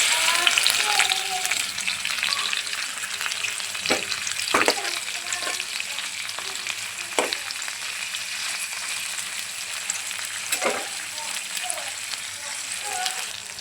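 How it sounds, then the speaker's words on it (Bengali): Vegetables fry with garlic in hot oil, giving a dense, continuous sizzle with crackling. A few sharp scraping knocks from a stirring utensil sound near the middle and end. "এই যে আমি সবজিটা এভাবে ভেজে নিয়েছি"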